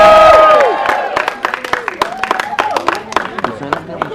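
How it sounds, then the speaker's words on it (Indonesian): Audience applause and light cheering at an Indonesian film press conference, starting with a loud burst that fades, then scattered claps continuing under a host's voice. "Dan tentunya tepuk tangan teman-teman,"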